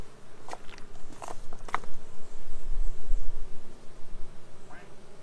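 Honeybees bearding at the front of a hive make a buzzing, humming drone, close to the microphone, with a few louder clicks and knocks near the start.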